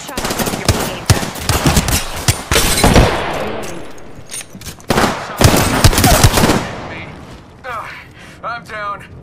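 Apex Legends gunfire erupts in loud, close bursts of rapid automatic shots with heavy booming impacts, repeating in clusters and then tapering off, with game voice lines heard near the end.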